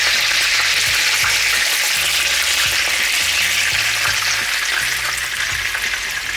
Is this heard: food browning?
yes